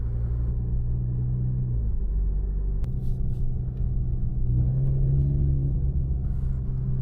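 A Stage 2 tuned Alfa Romeo Giulia 2.0T drives in normal mode, its engine holding a low cabin rumble. The pitch steps audibly as the transmission shifts gears.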